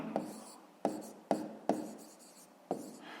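Pen strokes scratch across paper while a math exercise solution is written out, with about five sharp onsets each trailing into a short rasping scratch, close and quiet, no voices.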